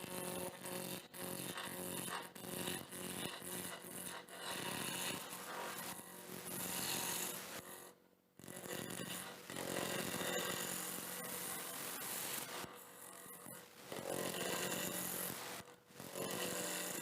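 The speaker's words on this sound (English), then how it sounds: "I'll actually rough it down with the long point of the skew instead of the short point" A skew chisel's long point roughs down spinning wood on a lathe, giving steady loud buzzing cuts with brief pauses between passes.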